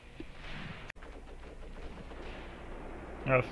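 German gunfire in a World War II tactical war game set around Kharkov in 1942, distant crackling shots and scattered bursts under a muffled battle din, with a short sharp burst near the end.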